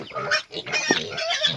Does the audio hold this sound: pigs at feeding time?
yes